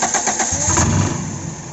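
A Toyota 4A-FE engine in an AE92 car with a hard-starting, carburetor problem cranks and catches, a loud close churning that rises briefly and then settles into a steady run, with no talking.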